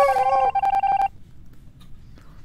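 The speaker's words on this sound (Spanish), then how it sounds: "Beto y Gil, me manda WhatsApp, Beto" A short burst of electronic phone tones, a quick descending run of beeps followed by several steady repeated pulses, rings out loud and alone for about a second during an Among Us game session, then fades to quiet.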